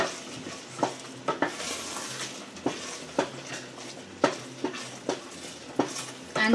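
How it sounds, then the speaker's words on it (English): A spoon stirs grated carrots frying in a pan for gajar halwa, giving repeated scraping clinks over a steady low sizzle, in an irregular rhythm of about ten close, moderately loud strokes. "And now I'm going to give this a nice stir."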